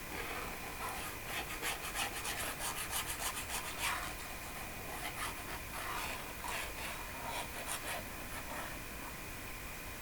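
Writing is rubbed off a board with steady back-and-forth scrubbing strokes, a rhythmic rasping sound that comes in bursts, fairly close and with no talk.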